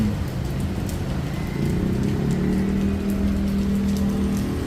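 Steady heavy monsoon rain pours down in the Philippines in a continuous wash, with a low rumble underneath like distant traffic or running water.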